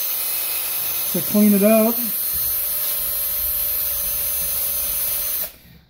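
A spent bullet casing spins in a drill while sandpaper is held against it, making a steady whirring, scraping drone that runs unbroken for several seconds. Someone speaks briefly over it near the start, and the noise cuts off abruptly at the end.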